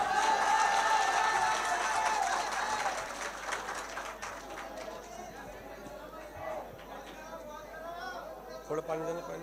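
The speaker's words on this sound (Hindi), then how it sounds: "भाई ताली बजाए" Audience applause at an Urdu poetry mushaira, a loud burst of clapping that fades over several seconds beneath crowd chatter and voices.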